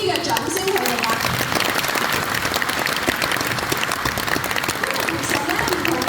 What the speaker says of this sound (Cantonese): 可唔可以俾大力啲嘅掌聲佢哋啊？